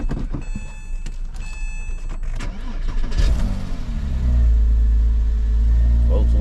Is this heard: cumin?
no